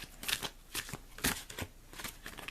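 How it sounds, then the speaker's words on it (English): Tarot cards are shuffled by hand in quick, crisp bursts of riffling and sliding, several short flurries close up with small pauses between them. "So I'm shuffling, waiting for cards to stick out."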